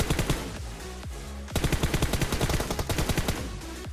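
Rapid automatic gunfire from the video game PUBG Mobile rattles in dense, loud bursts, with a short pause before a second sustained volley of evenly spaced shots; no talking.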